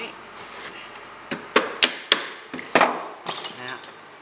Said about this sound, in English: you're going to start to need to hammer them in